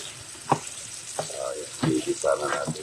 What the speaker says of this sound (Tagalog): Ipirito muna natin ng konti yung patatas at saka carrots